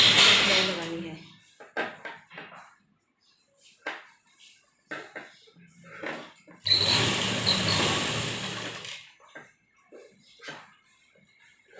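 A sewing machine stitching blouse fabric runs in one steady whirring burst of about two seconds, between stretches of someone talking and quieter handling sounds.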